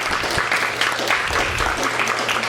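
Audience applause at a poetry reading: a short burst of steady, full clapping from a room of listeners, close and even throughout.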